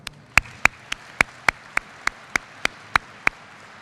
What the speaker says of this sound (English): Please join me in a round of applause for her.